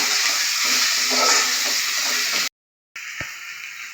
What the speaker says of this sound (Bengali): মশলাটাকে আবার ভালো করে কষাতে হবে